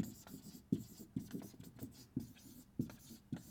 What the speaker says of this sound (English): I'm going to write that word down again